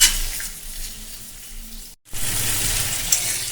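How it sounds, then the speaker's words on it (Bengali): Pointed gourd, potato and pumpkin frying in a pan over a medium flame, giving a steady close sizzle with a brief silent break midway, no talking. "আর মিডিয়াম ফ্লেমে রেখে আমি 2 থেকে 3 মিনিট এইভাবে ভাজা করে নেব পটল,"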